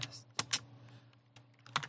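Keys tapped on a computer keyboard while entering a Linux terminal command, a handful of sharp close clicks in short uneven bursts over a quiet room hum.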